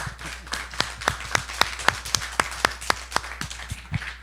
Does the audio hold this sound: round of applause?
yes